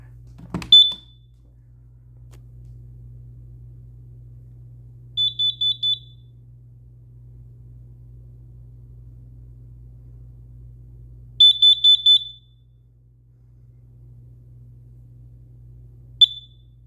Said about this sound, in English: This is a 10-year carbon monoxide alarm.